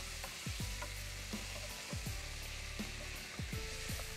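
Potato and cauliflower fry in hot oil with turmeric and chilli, a steady close sizzle broken by a few scraping stirs of a spatula in the pan, with no talk.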